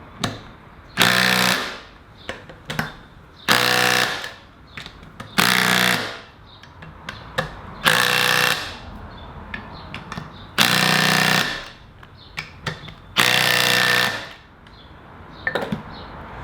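A power tool on a Land Cruiser 80 front brake upgrade drives the brake bolts tight in a crisscross pattern. It gives about six loud, rattling bursts of hammering, each a second or so long, with short clicks and quiet gaps between them.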